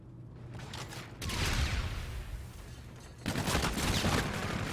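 Gunfight in a Call of Duty match, rapid bursts of gunfire in two loud volleys with crackling rattles between, fairly close and without speech.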